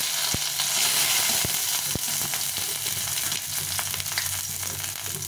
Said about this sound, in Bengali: শুকনো লঙ্কা আর এখানে 5 ফোড়ন দিয়েছি, দুটো শুকনো লঙ্কা ফাটিয়ে দিয়েছি, দুটো তেজপাতা